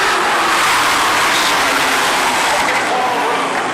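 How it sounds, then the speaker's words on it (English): Loud, dense roar of many limited late model race cars at full throttle starting a feature at Strafford Speedway, a continuous wash of engine noise filling the whole clip. "Paul LaRue, the Supreme Industries car, making noise on the inside."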